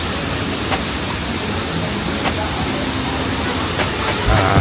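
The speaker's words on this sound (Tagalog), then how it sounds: "So, dito na tayo sa waterfalls." Shifen Waterfall in Taiwan, a broad steady rush of falling water heard from a distance, an even roar with faint crowd murmur beneath it.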